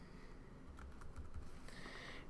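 Quiet typing on a computer keyboard, a short run of soft, close key taps over faint background hiss.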